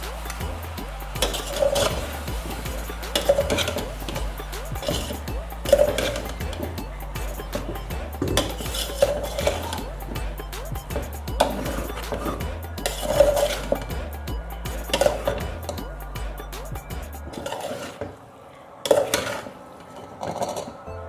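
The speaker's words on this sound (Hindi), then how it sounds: "और अच्छे से मिक्स कर लेंगे।" Macaroni with chicken and vegetables is stirred gently in a pan, a spoon scraping and clinking against the metal in a slow repeating rhythm for a long stretch, with light sizzling underneath and brief talk.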